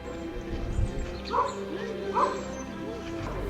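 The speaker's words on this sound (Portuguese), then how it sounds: "Ouve-se com perfeição esse cachorro que está latindo lá no centro do palco." A dog barks at the centre stage of the ancient theatre of Epidaurus in the Peloponnese, Greece, two short yips carrying across the open air, moderately faint over a steady outdoor background.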